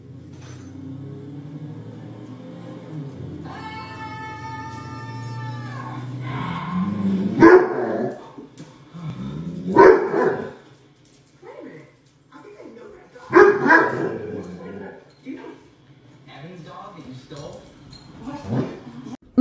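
A dog barks and yips in several short bursts close by, with whimpering and a higher whine before the barks, while people talk in the background between them.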